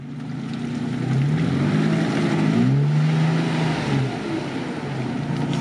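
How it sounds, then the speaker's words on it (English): A Toyota 4Runner's engine revs in deep mud as it backs up, a continuous mid-distance drone rising and falling in pitch with throttle, no voices. "watch that 4Runner back up and you'll see how deep this mud is"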